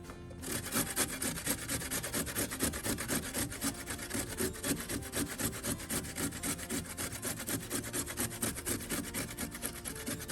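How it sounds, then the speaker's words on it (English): Fresh ginger is rubbed across a grater in quick, steady rasping strokes. The scraping is close, continuous and even in rhythm, with no voices. "we're going to grate the ginger"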